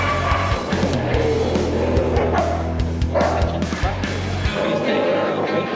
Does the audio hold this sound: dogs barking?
yes